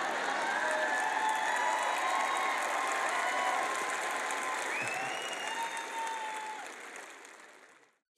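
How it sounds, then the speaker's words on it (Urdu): A large audience claps loudly at a Christian teaching event, dense sustained applause with some cheering that carries on steadily and fades toward the end. "آج جب تک آپ بلند آواز سے تالیاں بجائیں گے"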